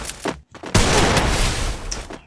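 Gunfire in a mobile shooting game match, a sustained burst of loud shots running nearly two seconds after a brief pause.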